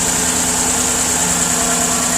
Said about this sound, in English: so there you have it, nice and quiet. No more exhaust leak.